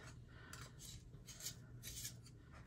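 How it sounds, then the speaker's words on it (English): A Polychromos burnt ochre colored pencil turning in a sharpener, giving soft, rhythmic rasping strokes, faint and close, with no voices. "I want to sharpen this. The tip is a little bit rounded. So I'm going to sharpen this."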